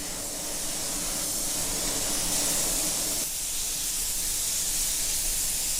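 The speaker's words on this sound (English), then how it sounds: "I'm using the 4000 series base coat sealer dark with no reducer, and I'm going to apply 2 or 3 light coats." Steady close hiss of a spray gun laying light coats of 4000 series dark base coat sealer with no reducer, a continuous airy spray lasting several seconds without a break.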